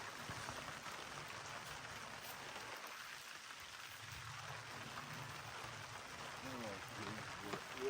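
Steady rain falls at a campsite, a continuous dense hiss of drops on surfaces that stays even throughout, with a faint voice murmuring underneath.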